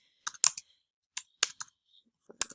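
Keystrokes click on a computer keyboard in short, sparse bursts separated by silent pauses, close and fairly crisp, with no voices.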